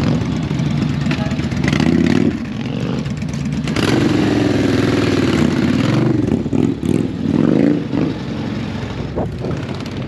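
Several motorcycles setting off on a ride, engines revving loud and close with rising and falling throttle surges and some clatter, voices talking faintly underneath.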